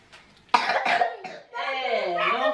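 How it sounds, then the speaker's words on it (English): A few sharp coughs burst out close by, followed by a voice speaking right after them. "no coughing around here"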